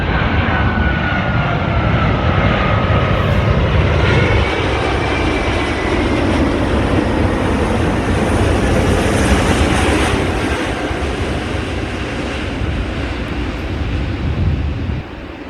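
A heavy airliner lands on runway 16 right at Sydney Airport, a loud sustained jet roar with a broad rushing hiss that holds steady and eases slightly toward the end.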